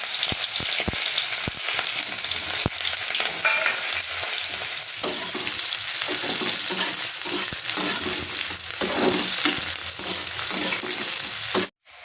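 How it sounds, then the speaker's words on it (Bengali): Onions frying in hot oil in a wok (kadai), a steady close sizzle throughout with occasional stirring scrapes, cut off abruptly at the very end. "তেলটা আমার গরম হয়ে গেছে এবার আমি তেলে পেঁয়াজগুলো দিয়ে দিচ্ছি"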